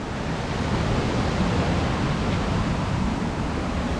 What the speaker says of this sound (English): Oh, here it is, the second waterfall.